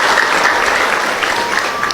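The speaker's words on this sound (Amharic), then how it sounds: "አጨብጭቡና ገለጹ" Congregation at an Ethiopian Orthodox church talk breaks into a brief, full burst of applause, dense and even, with no voices over it.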